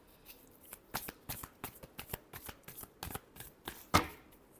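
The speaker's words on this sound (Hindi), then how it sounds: "Last shuffle." Tarot cards being shuffled by hand: a quick run of soft, close riffling bursts in a steady rhythm, quiet overall, ending with a sharper snap as the deck is squared.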